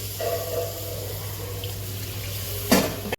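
Water poured for cooking semolina upma, a steady running flow like a tap filling a vessel, close and moderately loud, ending with a short splash and clunk.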